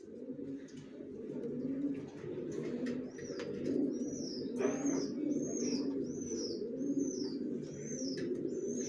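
Young original racer pigeons coo in a low, continuous murmur, with a run of repeated thin chirping calls on top, close and steady, with no voices.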